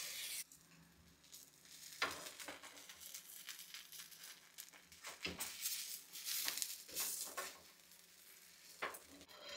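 Dosa batter crisps on a hot pan at home, a soft continuous sizzle broken by scraping and crinkling strokes of a spatula, fairly quiet and close, with no talk.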